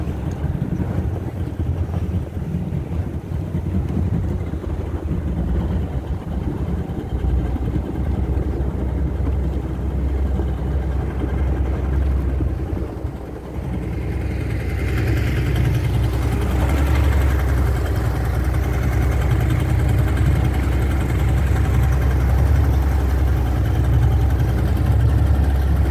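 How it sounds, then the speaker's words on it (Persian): A motorboat engine drones low and steady on a ride across the Caspian Sea toward Ashuradeh Island near Bandar Torkaman, loud and close, with heavy wind buffeting the microphone and the engine note swelling partway through. "بالاخره نوبت ما هم فرا میرسه که سوار قایق بشیم و به سمت جزیره"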